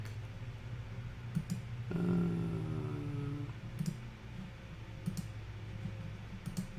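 A computer mouse gives a few light, sparse clicks in a quiet room over a low steady hum, with a brief tonal sound partway through.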